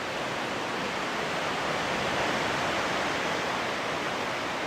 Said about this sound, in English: The ocean is a lot calmer than it was the first night and yesterday